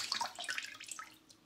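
Water drips and trickles from a squeezed Lifeventure trek towel into a container, a faint splattering patter that thins out toward the end.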